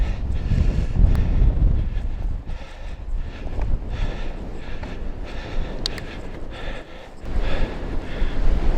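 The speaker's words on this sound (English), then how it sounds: "It's really blowy up here." Strong wind on an exposed hilltop trail, buffeting the microphone in loud, rumbling gusts that rise and fall close up for the whole stretch.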